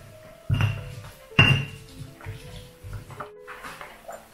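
Ingredients such as salt being ground by hand in a stone mortar for spicy tofu gejrot, heard as a few sharp knocks and scraping strokes, close and fairly loud, with quiet gaps between.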